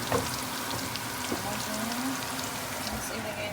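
Onion and garlic sizzle in a frying pan, a steady, fairly faint hiss and crackle throughout, with a voice talking lightly over it.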